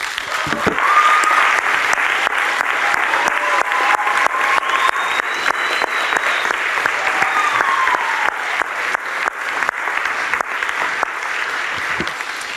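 A church congregation claps and cheers in praise of the Lord, with sustained loud rhythmic applause running for several seconds, scattered shouts and whoops rising above it, and occasional sharp hand claps standing out.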